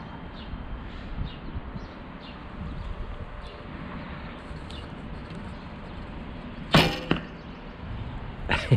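An arrow is loosed from a Bear Bullseye archery bow outdoors, a sharp close snap followed by a quick thud, with wind and faint rustling beforehand and a smaller knock shortly after.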